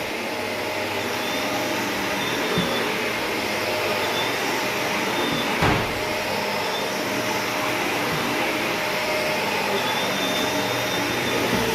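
A vacuum cleaner roars steadily and loudly throughout, a constant broadband whine with a faint bump partway through.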